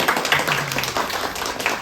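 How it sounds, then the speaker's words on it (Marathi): A crowd applauds with dense, steady clapping, close and lively, for a couple of seconds. "जरा टाळ्या वाजवा त्यांच्यासाठी"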